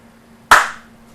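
A single sharp hand clap meant as a sarcastic clap, close and loud, fading quickly in a quiet room.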